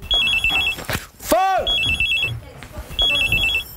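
A telephone rings in the Big Brother house with a repeated electronic trill in regular bursts, loud and close, alongside a rising sweep tone between rings.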